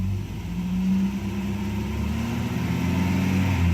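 Natural-gas-converted Mercedes 190E 2.0 engine revving steadily under the throttle, a loud, close, continuous drone that holds its pitch with slight rises and no pauses.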